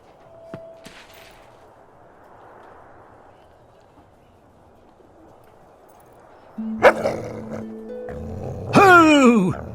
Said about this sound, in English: There's a nice, angry, stray dog.